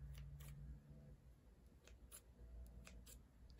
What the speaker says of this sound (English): This is the sound that scissors make.